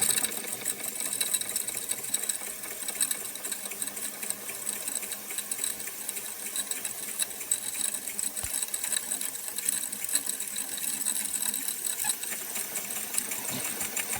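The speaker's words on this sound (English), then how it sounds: "Engine seems perfectly happy running in either direction" A small Jensen Model 25 engine runs steadily with a rapid, even mechanical chatter. The sound is close and continuous at a constant speed, and no one talks over it.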